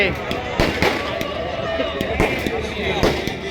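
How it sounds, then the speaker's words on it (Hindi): Firecrackers burst in a rapid, uneven string of loud pops at an outdoor Dussehra Ramleela in Rohini, over a dense crowd and nearby talking. "पटाखों की तो लहर ही बना दी इन्होंने"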